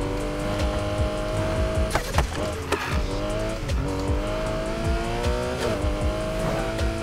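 A Subaru BRZ on drag tires in NFS Heat roars close and loud, engine revving up through rising gear sweeps with repeated shifts and brief tire squeals, continuous throughout.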